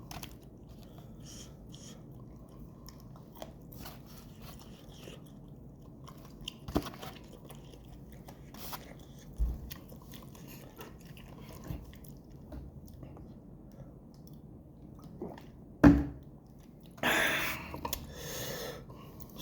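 Chewing and biting into a large piece of chicken from Indonesian-style food, with soft crunchy bites and mouth noises scattered close to the mic, building to a louder crunch near the end, no talk.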